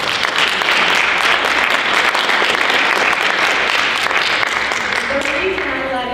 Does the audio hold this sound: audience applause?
yes